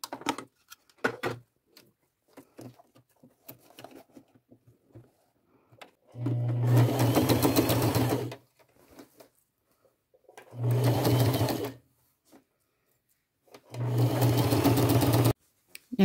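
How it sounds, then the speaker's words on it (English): Sewing machine stitching a half-inch seam around a drawstring purse, three close, rapid runs of needle chatter separated by pauses with light handling noises between them. "just run it through your machine, slide it in. I'm going to do a 1/2 inch seam allowance and just go all the way around."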